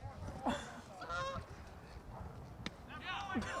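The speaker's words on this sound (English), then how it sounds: "And the Geese are back. Oh, they're really close this time." Geese honk close by over a high school baseball field during a game, sounding several loud, nasal calls spaced across the moment, with faint crowd and field noise underneath.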